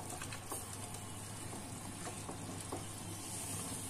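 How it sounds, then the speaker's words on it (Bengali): Oal (elephant foot yam) curry with grated coconut and coriander leaves is stirred in a pan, a soft continuous sizzle with faint scattered scrapes and taps, quiet and close, no voices. "একটু ভালো করে নেড়ে নেব।"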